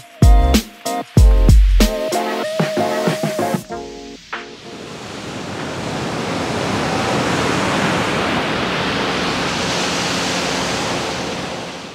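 Ocean waves wash steadily at Huntington Beach, California, as a broad, even roar of surf follows a few loud, close thumps at the start.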